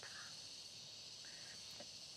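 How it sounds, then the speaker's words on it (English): Cicadas drone in a steady high, continuous buzz throughout, fairly faint and even, with a couple of brief chirps layered on top and no talking. "You hear the cicadas vibrating up."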